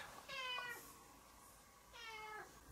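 A hungry cat meows twice, a drawn-out call followed after a pause by a second similar meow, fairly close and alone.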